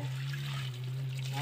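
Liquid medicine is poured onto the roots of an apple tree, making a steady, close trickling splash that runs without a break.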